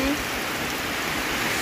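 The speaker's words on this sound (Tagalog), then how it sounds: "ang lakas pa rin ng ulan." Heavy typhoon rain pours in Sultan Mastura, Maguindanao, a dense, steady hiss of downpour filling the whole short stretch without a break.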